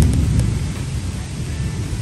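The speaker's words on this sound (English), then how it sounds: "here comes the thunder" Thunder rolling during a heavy rainstorm, a loud low rumble over constant hissing rain that fades slightly across the short stretch, with no talk.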